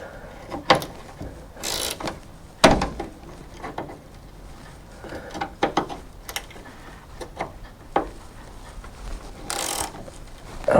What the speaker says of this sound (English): I forget that ratchet wrench doesn't like to work that way.